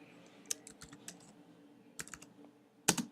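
Typing on a computer keyboard, a few quiet bursts of clicking keystrokes separated by short pauses, close by and faint over a low background hum.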